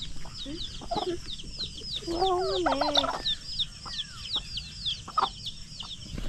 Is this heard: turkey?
yes